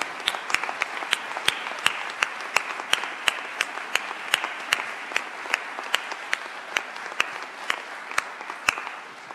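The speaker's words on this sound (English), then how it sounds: "Please join me in giving them a big round of applause" An audience at a county cabinet meeting applauds, a sustained wash of many hands clapping with sharp, regular claps standing out near the microphone for the whole stretch.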